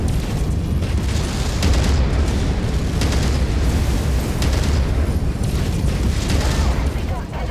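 Loud, continuous battle noise from a mech's weapons blasting and exploding an enemy mech's arm off in MechWarrior 5, with dense rumbling booms and bursts running throughout.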